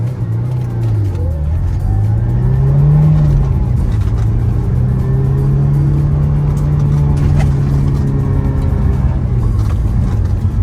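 A Honda S2000 engine hums steadily up close, its pitch rising and falling as it accelerates and shifts through gears, with a faint voice underneath; the car was flooded and unused for seven years.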